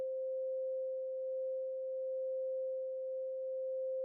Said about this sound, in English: So the 2-operator algorithm, it's basically playing a sine wave.